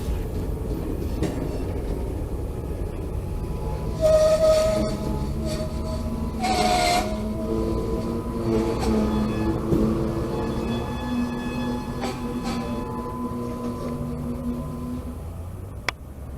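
CSX 4766 freight train moves backward through the Waycross rail yard, a loud steady rumble with creaks and squealing tones from the cars, and a few brief bursts of brake hiss.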